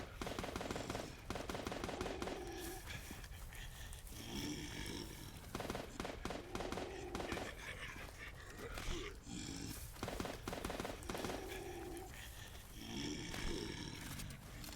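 Gunfire in the video game Dead Bit comes in rapid bursts and repeated shots, mixed with growling creature roars, continuous and fairly loud throughout.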